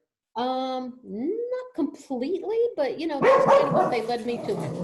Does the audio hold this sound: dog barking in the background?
yes